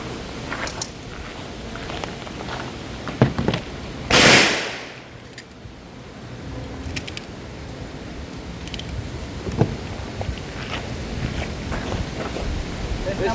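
A single loud gunshot from test firing handloaded competition ammunition loaded with BA32 powder, a sharp close blast followed by a decaying tail over quiet outdoor background noise.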